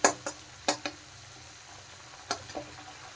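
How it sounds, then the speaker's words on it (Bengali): Spice paste for doi rui, a Bengali rohu fish curry in curd, fries softly in a pan while a spatula scrapes and taps it in a handful of sharp, separate strokes over a quiet sizzle. "মশলাটা এখন ভালো করে কষিয়ে নেব"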